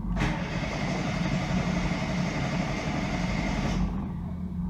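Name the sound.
ZAZ Sens car engine cranking, failing to start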